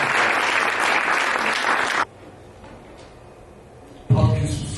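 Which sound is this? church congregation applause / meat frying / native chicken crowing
church congregation applause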